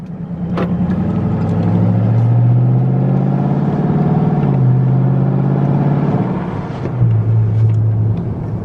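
A 2021 widebody Dodge Charger Scat Pack with a fully straight-piped exhaust, heard from inside the car in eco mode on a country road: a loud, deep, burbling drone that rises and falls with the throttle and stays continuous throughout.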